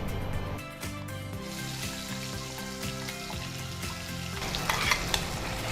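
Chicken biryani masala simmering and frying in a single pot, a continuous close sizzle and bubbling hiss with a faint watery crackle building near the end, no voices.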